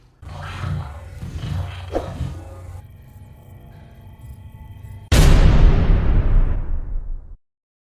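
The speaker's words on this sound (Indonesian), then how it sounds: "Terdengar suara tembakan seperti di dalamnya sedang terjadi sebuah peperangan hingga menyebabkan beberapa tembok hancur." Film scene from Kin: muffled rumbling booms and distant gunshots inside an old building give way to a loud, sudden crash of collapsing walls with crumbling debris that roars briefly and then cuts off.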